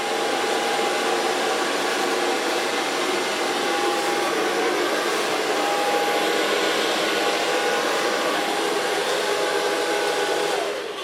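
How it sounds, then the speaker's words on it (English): A hair dryer blow-dries a short pixie haircut, running as a loud, continuous, close whir for about eleven seconds, its pitch shifting slightly as it moves before cutting off at the end. "So far blow drying."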